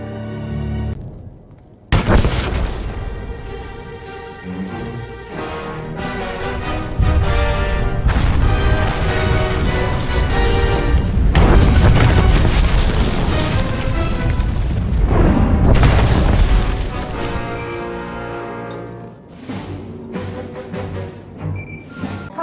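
A detonator blast in the Star Wars: The Old Republic video game erupts suddenly after a brief quiet lead-in. It becomes a loud, sustained roar of rumbling booms mixed with tonal game score, then gradually thins toward the end.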